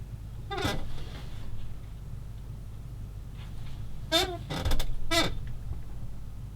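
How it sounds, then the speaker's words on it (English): A chair squeaks in several sharp creaks, with one near the start and a cluster of three close together near the end, heard loud and near over a quiet room hum. "I'll let the chair do the squeaking"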